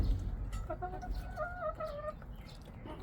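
Hens in a backyard coop cluck softly at a distance, a steady run of low, warbling calls over a faint outdoor hum.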